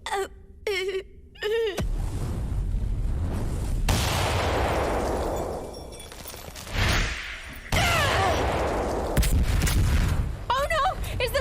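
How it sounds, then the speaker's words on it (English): A building exploding, with a heavy boom and a long rumbling roar that swells, dips and surges again, breaking up into crackling bursts, loud and close, with brief wailing voices before and after. "Is the building exploding?"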